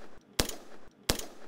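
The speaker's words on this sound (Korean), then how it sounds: "테러범들의 기습적인 총소리가 들리고" Two sharp gunshots ring out about a second apart during a military anti-terror drill, loud and close, each followed by a brief echoing tail.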